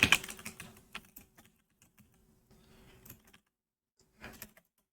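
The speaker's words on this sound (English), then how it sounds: "I'm just typing this out in chat so you can see it" Computer keyboard typing in bursts, quiet and close, with pauses between clusters of key clicks and no talk.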